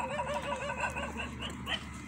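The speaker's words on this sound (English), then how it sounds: "Why is he barking like that?" Dog barking in a neighbourhood in Ghana, several quick yappy barks in an uneven run over a low ambient hum, moderately close with no talk during the barks.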